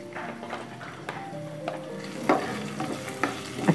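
Cumin, ginger and green chili fry in ghee for sabudana khichdi, a soft steady sizzle with light crackles and a few stirring scrapes and taps of a spoon, close and fairly quiet, with no talking.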